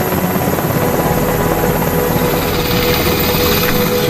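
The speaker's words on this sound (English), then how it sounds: "The officers, with the classified hard drives in hand, soon board an HS-60 Seahawk helicopter and leave Nimitz." An HS-60 Seahawk navy helicopter leaving the carrier Nimitz, its rotor and engine a loud, steady close-range drone with a constant chopping throb and high whine throughout.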